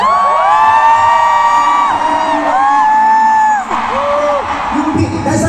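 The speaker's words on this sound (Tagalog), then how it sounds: "Kasi ang lakas ng hiyawan ng mga blooms" A large crowd of Blooms fans screams and cheers at a BINI event, loud sustained high-pitched shrieks and whoops with rising and falling tones, close and filling the space.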